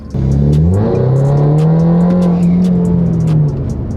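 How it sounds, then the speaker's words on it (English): A BMW 330e (F30) with an ARMASPEED cold air intake revs up and pulls hard, its deep roar and breathy intake rush holding steady before easing off at the end. "the air intake sound"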